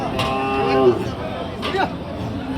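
Desi-breed dairy cows, white and red, moo at the Chaugachha cattle market in Jashore, Bangladesh, two drawn-out calls close by over a busy background of market chatter and voices.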